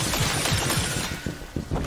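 Rapid gunshots from the video game Evil West, a quick burst of sharp, punchy reports followed by a few scattered heavier shots over about two seconds.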